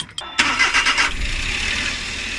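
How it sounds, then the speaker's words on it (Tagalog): A Suzuki Every Wagon (DA64W) engine cranks briefly with a couple of sharp clicks during a cooling system flush, then catches and settles into a steady, close idle rumble. "Paandarin natin yung makina."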